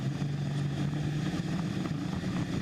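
A pulling tractor's engine roars steadily at full throttle during an outlaw pulling event, a continuous loud droning rumble with no break across the moment.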